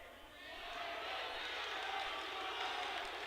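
A large crowd at the Mart Center roars and yells encouragement at a college wrestling match, a broad, sustained wash of voices at moderate distance, rising slightly, with a commentator talking over it.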